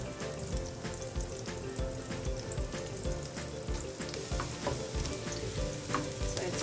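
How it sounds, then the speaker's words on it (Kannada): Garlic sizzling in hot oil and butter for garlic shrimp, a busy, close crackle with rhythmic stirring scrapes throughout, quiet overall and with no one speaking. "ಸೊ ಗಾರ್ಲಿಕ್ ಹಾಕ್ತಾ ಇದ್ದೀನಿ."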